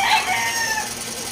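A large rooster crows among a yard of big gamecocks, a single hoarse, drawn-out cry close by that fades into the surrounding background noise.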